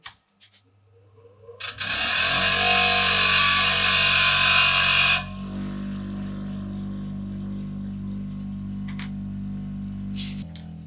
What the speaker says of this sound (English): I will make this quick on the sander over here.